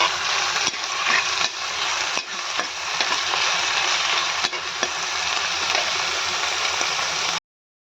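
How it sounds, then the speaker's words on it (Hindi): Onions frying hard in a pan for a soya chunk vegetable dish, a loud, dense, continuous sizzle with occasional stirring knocks, ending abruptly, no talking. "अच्छी तरह से फ्राई करेंगे हम।"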